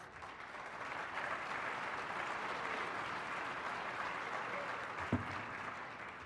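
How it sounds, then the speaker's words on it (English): An awards-event audience in a Phoenix banquet hall gives a sustained round of applause, a thick, even wash of clapping with no talk over it. "Would you guys just stand, give them a round of applause?"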